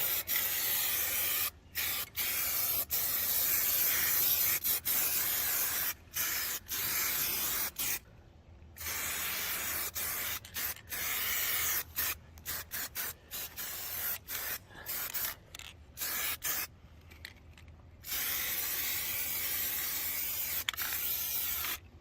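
Spray paint hissing onto a car chassis outdoors in long steady bursts separated by brief pauses, close and continuous, with no speech.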